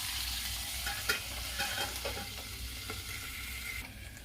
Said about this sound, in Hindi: ये अच्छी तरह भुना रहा है और 3-4 मिनट भूनूंगी इसे मैं